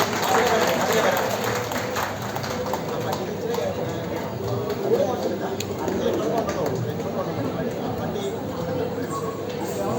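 Audience applauding at a public felicitation meeting at Kanjikuzhi Government LP School, a crowd clapping in a loose, uneven patter beneath chatter and voices through the whole stretch.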